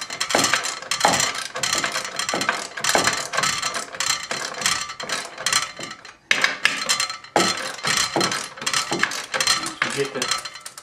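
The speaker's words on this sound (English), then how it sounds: "we're going to torque these back bolts. Just the back 2 bolts to begin with" Torque wrench tightening the back two bolts of an ATB install to 12 foot-pounds, with close, rapid ratcheting clicks and metallic clatter repeating throughout and a brief pause midway.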